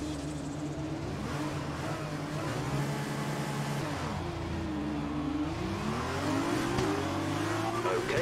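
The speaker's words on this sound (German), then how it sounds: "Wir wollen die Motoren hören." F1 2020 race car engines rev and whine continuously in a racing video game, several engine tones rising and falling and overlapping, loud and dense throughout, with a voice occasionally underneath.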